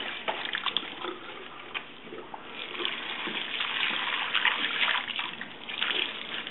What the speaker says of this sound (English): Continue with a thorough hand wash.